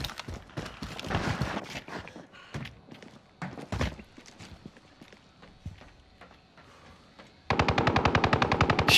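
Video game gunfire in Rebirth Iron Trials: scattered single shots and distant pops across the scene, then a fast loud automatic burst near the end.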